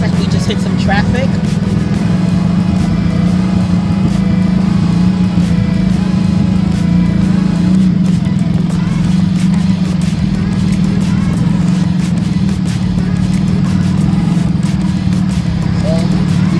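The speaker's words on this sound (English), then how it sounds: "So it looks like we just hit some traffic." Road traffic in Thailand heard from inside a vibrating vehicle: a steady, loud low engine drone and rumble fills the whole stretch without pause, with faint clicks and a brief knock near the start.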